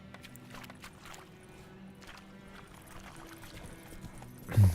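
A horse in The Witcher 3: Wild Hunt trots along a road, its hooves clip-clopping in a steady rhythm at moderate volume, with a louder thump right at the end.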